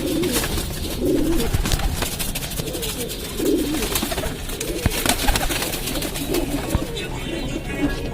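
Pahadi Kaldua pigeon, an eight-year-old bird kept at home, cooing in repeated low rolling calls amid constant loud background noise.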